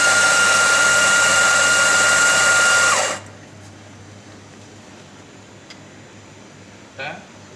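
An espresso coffee grinder grinds 7 grams of coffee for a vanilla latte, a loud steady whirring for about three seconds that cuts off sharply, followed by quiet room tone and a small clink.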